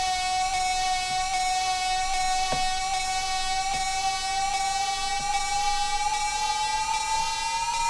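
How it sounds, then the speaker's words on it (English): A vocalizer synth preset run through an automated frequency shifter holds a bright sustained tone whose pitch slowly rises, with faint rhythmic ticks underneath. "next up we have this vocalizer and it sounds like this"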